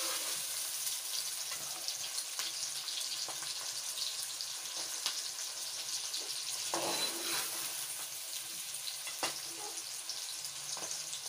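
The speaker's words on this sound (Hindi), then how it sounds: "प्याज ब्राउन हो रहा है।" Onions browning in a pan for a desi chicken korma, giving a steady, close sizzle with faint stirring scrapes throughout and no talking.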